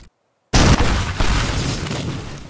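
A bomb goes off in the destruction game Teardown: after a brief silence, a single loud, close boom hits hard, then a heavy rumbling roar of debris lingers for two seconds with a second surge.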